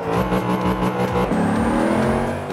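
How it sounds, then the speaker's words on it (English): A Plymouth Cuda Hemi race car in a Forza 5 circuit race roars loudly as it accelerates, a continuous rising engine note with a gear change midway, heard alone with no talk. "See the engine vibrating there, moving about as we accelerate"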